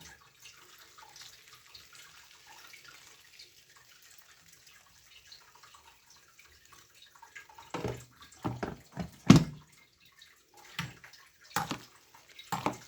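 Hot water splashes and pours in a basin while omena fish are washed. A quiet stretch gives way to several short bursts of sloshing and gushing toward the end.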